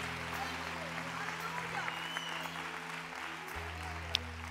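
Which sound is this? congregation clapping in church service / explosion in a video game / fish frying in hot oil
congregation clapping in church service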